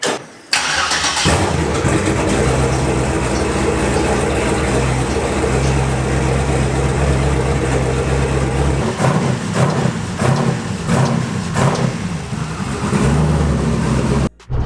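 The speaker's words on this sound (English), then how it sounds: "One last cold start on this bad boy." A turbocharged car engine cranks briefly on a cold start and catches, then idles with a steady low rumble, rising in a few revs before cutting off at the end.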